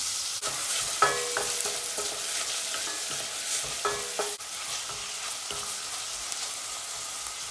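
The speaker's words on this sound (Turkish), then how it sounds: "Orta ateşte soğanlarımızı kavuracağız" Onions sauté over medium heat in hot oil in a pan, a continuous close sizzle broken by a few scraping stirs of a utensil against the pan.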